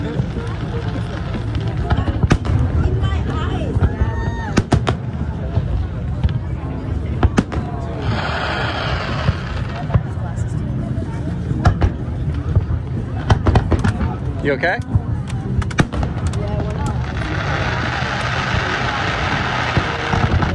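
Fourth of July fireworks burst over downtown San Diego: sharp pops and cracks recur irregularly through a constant outdoor rumble, with nearby people talking over them.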